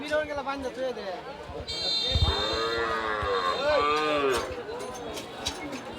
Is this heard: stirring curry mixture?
no